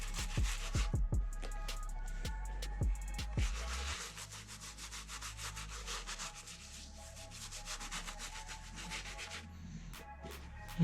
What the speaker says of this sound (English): You scrub the scuff that you have, or just around the entire shoe